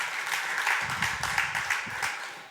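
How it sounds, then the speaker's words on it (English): Conference audience applauding as the next speaker is welcomed on stage at a startup and blockchain summit, a dense, steady wash of clapping throughout at moderate distance with no talk over it. "Big applause."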